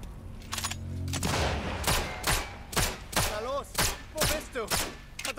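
Repeated gunshots from Sniper Elite 5, a dense burst of rapid fire followed by single sharp cracks spaced about half a second apart, loud and close, with faint voice-like sounds between the shots.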